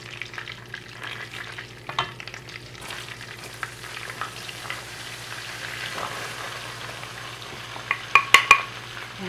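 Butter and flour cooked together in a pan on a home burner for Spanish croquetas, giving a soft steady sizzle with light stirring scrapes and a few sharper utensil clinks near the end, with no talking.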